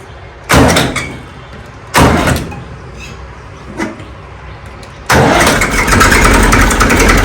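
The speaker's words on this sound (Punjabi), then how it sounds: "ਹੁਣ ਇਸ ਟਰੈਕਟਰ ਦੀ ਸਟਾਰਟਿੰਗ ਤੁਹਾਨੂੰ ਦਿਖਾਣੇ ਆ" A Massey Ferguson 35 tractor in neutral cranks in two loud short bursts, a smaller knock follows, and then the engine catches and settles into a steady, loud idle close by.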